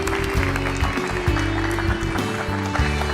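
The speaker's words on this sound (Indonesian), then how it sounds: "Beri tepuk tangan paling meriah untuk Najwa Shihab." A studio audience applauds as a guest is welcomed on stage, producing steady clapping beneath loud music.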